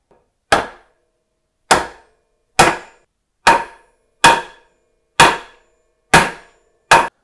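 A wooden block tapped with a hammer to set a bike headset into a 2022 Marin Bobcat Trail 4 frame: eight sharp, close knocks in an uneven rhythm, with silence between them.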